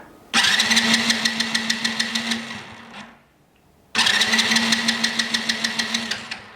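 An engine is cranked twice in a row, each attempt a fast rhythmic churning with a low steady hum beneath, loud and close, separated by a short quiet gap, without catching.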